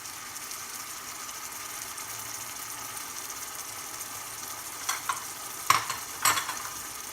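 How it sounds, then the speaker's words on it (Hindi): Tomato paste sautéing in a pan for salmon green fish curry, a steady quiet sizzle throughout with a few sharp spoon scrapes and clinks near the end, no voices. "हमें 2-3 सेकंड के लिए इसे फ्राई करना है, अच्छा से सौटे करना है टोमेटो पेस्ट को।"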